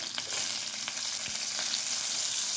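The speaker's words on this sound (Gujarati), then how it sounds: "અંદર મિક્સ વેજીટેબલ આપણે સોતે કરી દઈશું. તો એના માટે હરિયા વટાણા અને ગાજર છે," Mixed vegetables, green peas and carrots, sauté in hot oil with asafoetida for rava upma, giving a steady loud sizzle with a few faint scrapes of a spoon stirring through the pan, no voices.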